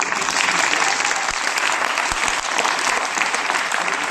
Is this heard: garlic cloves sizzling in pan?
no